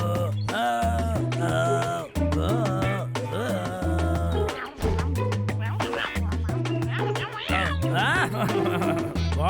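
Cartoon cat meowing in a Boonie Bears Hindi animated story, several stylized meows mixed with a cartoon voice and loud background music throughout.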